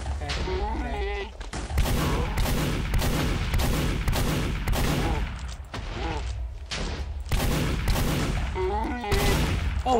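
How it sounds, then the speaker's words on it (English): Scatter gun firing in a video game boss fight, a rapid series of loud, booming shots in quick succession, with a voice talking between them. "I get my scatter gun."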